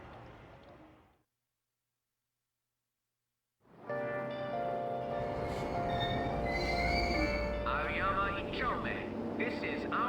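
Subway train running in Persona 5 Royal at Aoyama-Itchome station, a steady rumbling rail drone with squealing tonal overtones that swells in after a brief silence and stays loud to the end, with station announcement voices over it.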